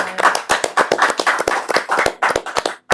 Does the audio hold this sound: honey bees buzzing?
no